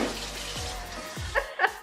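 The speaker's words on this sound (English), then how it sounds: "So I don't have ice though, so I'm just gonna fill it with some cold water." Cold tap water runs and gurgles as it fills a hookah bong, a steady close splashing with a few sharper bubbling pulses near the end.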